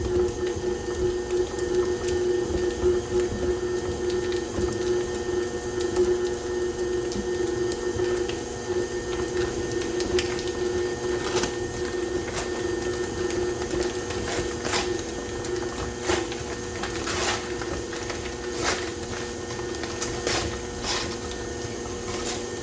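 A stand mixer with a paddle beating sugar cookie dough, a steady mechanical hum and whir with light rhythmic knocks and clicks throughout, close and alone.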